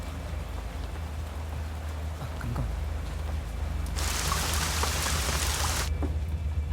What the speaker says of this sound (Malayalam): പുറത്ത് നല്ല മഴയൊക്കെ അല്ലേ